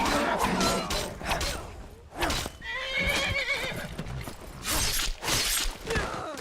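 A horse whinnies repeatedly in loud, close, shrill bursts in the video game Skyrim, with clattering and rattling noises mixed in throughout.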